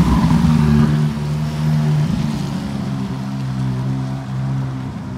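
Ferrari 458 engine at a rally stop in Gérardmer, a strong close tone rising and easing through a couple of short bursts of throttle with no voices.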